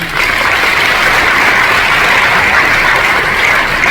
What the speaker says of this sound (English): Nice round of applause for them one more time.